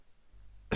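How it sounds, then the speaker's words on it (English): One short, sharp cough bursts out near the end after a quiet lead-in, close and isolated with no talking around it. "This is coughing."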